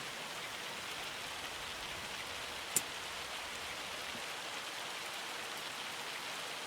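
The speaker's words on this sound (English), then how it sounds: "Oh, that's hail." Hail falls steadily in the Farming Simulator video game, a dense, even hiss of pelting ice with one sharp knock partway through.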